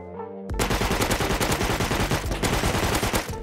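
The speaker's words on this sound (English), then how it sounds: "I used this gun I had just gotten to get even more guns." Rapid automatic gunfire from a gun in the survival video game Rust, a loud sustained burst of fast shots starting abruptly after a brief quiet moment and running steadily to the end.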